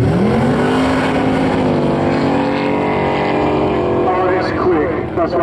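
Loud, droning engine roar of a Ford Mustang and Chevrolet Camaro at a drag race, pitch sweeping upward as they accelerate down the strip, with a commentator talking over it.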